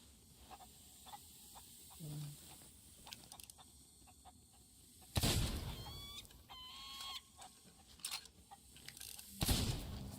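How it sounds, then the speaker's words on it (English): Chickens cluck in short bursts from a few spots in the pirate game Sea of Thieves, set against a faint outdoor ambience with occasional louder thuds and creaks between them. "Chickens!"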